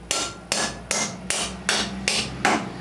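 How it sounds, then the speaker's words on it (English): A hammer strikes a metal concrete anchor seven times in a steady rhythm, each blow sharp and ringing, close by with no voices. "all you need to do is hammer that down."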